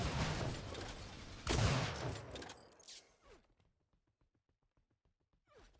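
Rocket fire in Unreal Tournament 4 bursts out in loud, harsh blasts over the first couple of seconds, one especially heavy impact among them. It then drops away into a quiet tail of faint clicks and small effects.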